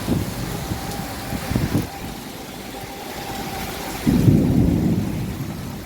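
Low rumbling thunder rolls in the distance over steady rain and wind, swelling briefly and then growing louder toward the end.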